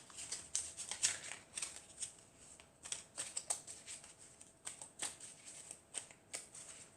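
Oracle cards are shuffled by hand in quick, soft riffles and slides, a close and quiet sequence of papery flutters in irregular bursts.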